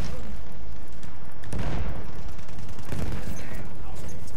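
A grenade explosion and gunfire in the Battlefield 1 battle game, a loud, dense din of battle with heavy booming bursts and scattered shots over constant rumbling noise.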